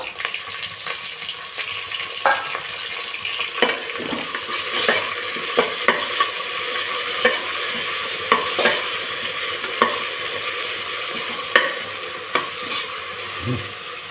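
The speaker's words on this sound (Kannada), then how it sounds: "ಈಗ ಟೊಮೊಟೊ ಹಾಕ್ತಾಯಿದ್ದೀನಿ, 1 ಟೊಮೊಟೊ." A tomato stirred and fried in hot oil for vangi bath, a brinjal rice dish, sizzles steadily up close, punctuated by regular spatula scrapes and knocks against the pan, with no talking.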